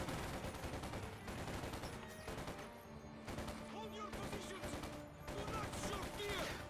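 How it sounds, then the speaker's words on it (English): Sturmgewehr assault rifles firing in Company of Heroes 2, a steady crackle of overlapping bursts from Panzer Grenadiers, fairly faint in the battle mix and mostly continuous, with a commentator talking over it. "Panzer Grenadiers staying back, opening up with their assault rifles, their Sturmgewehrs"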